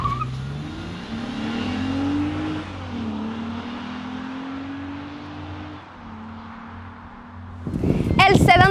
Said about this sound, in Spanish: Este carro es como suena, en particular cuando pasa las 5000 revoluciones.